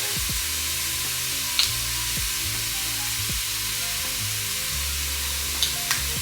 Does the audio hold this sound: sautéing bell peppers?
yes